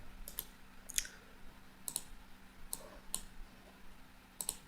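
Computer mouse clicks while working in ArtCAM, about eight short, crisp, evenly spaced clicks over a low steady hum, close but quiet, with no talking.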